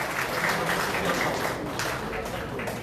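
Sustained, loud applause from an audience at a Liberty Korea Party North Chungcheong provincial chapter appointment ceremony, steady dense clapping throughout with no break.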